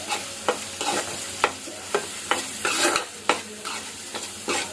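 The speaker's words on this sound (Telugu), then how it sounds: "ఇప్పుడు కరివేపాకు రెబ్బలు వేస్తున్నానండి. ఒకసారి కలుపుకుందాం మనం." Curry leaves sizzle in hot oil in a pan for a sour mango rasam, with a spoon scraping and stirring in regular strokes over the constant frying hiss, close up.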